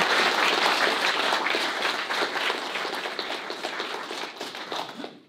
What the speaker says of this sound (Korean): 큰 박수로 맞이해주시겠습니다